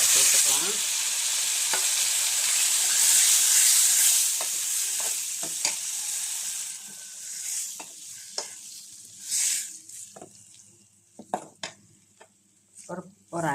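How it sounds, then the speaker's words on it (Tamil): Goat brain fries with masala in a pan, a loud, steady sizzle that fades as it is stirred, with scrapes and short clinks of the spoon against the pan breaking through. "இப்போ நம்ம கட் பண்ணி வச்சுருக்கிற மூளையை அதில் சேர்த்துக்கலாம்."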